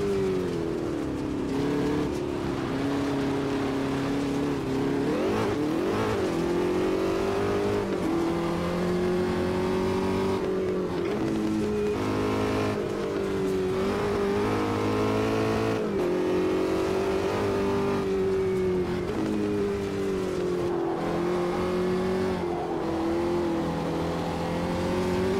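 Racing car engine in the sim game AMS2 revs steadily and loudly for the whole stretch, a sustained droning tone rising and falling with gear changes, no talk over it.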